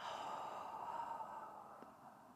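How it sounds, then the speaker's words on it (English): A single deep, soft exhale during a breathwork session, a faint airy breath that trails off quietly over a couple of seconds. "Exhale."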